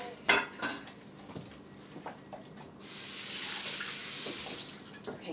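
Pasta with Parmigiano Reggiano being stirred in a pot makes a few clinks of utensil against cookware, then a steady rush like running tap water and washing at the sink, all fairly quiet with no talk.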